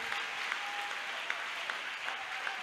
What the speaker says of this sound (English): Give a great applause for Jesus.